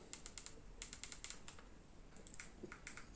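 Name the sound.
typing email address to register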